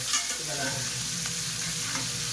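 Pork belly (liempo) simmering in a pot with a pork stock cube for dinuguan, giving a steady close bubbling and light sizzle.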